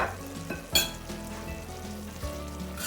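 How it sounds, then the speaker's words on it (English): Parsley and tarragon get stirred into a mushroom risotto in the pan, giving a steady soft bubbling sizzle broken by a few sharper spoon scrapes, close and alone without talk. "we're going to give that a good stir around"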